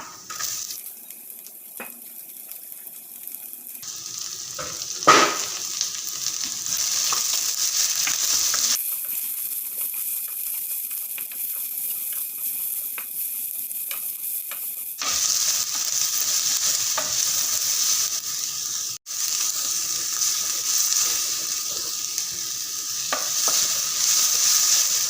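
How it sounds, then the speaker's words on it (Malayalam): Chopped onions frying in a pan sizzle steadily for a long stretch, a close, continuous hiss with occasional stirring scrapes and brief shifts in intensity as the pan is worked. "നമ്മൾ അരിഞ്ഞു വെച്ചിരിക്കുന്ന ആ ഓണിയൻ സവാളയൊക്കെ ഇട്ട് കൊടുക്കുകയാണ്."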